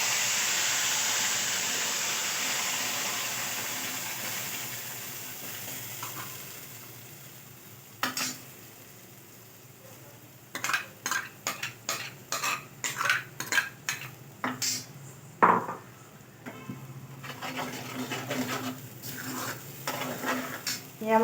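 Ground masala with asafoetida frying in hot oil in a pan, a steady hiss at first that fades, then a run of sharp metal spoon scrapes and clinks against the pan as it is stirred, close and fairly loud.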